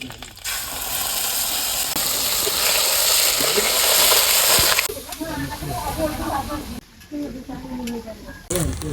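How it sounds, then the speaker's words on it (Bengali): Prawns dropped into hot oil in a wok give a loud, bright sizzle for several seconds, then a quieter, crackling fry continues while a person talks over it. "এই তেল আর চিংড়ি মাছ দিয়ে দিলাম"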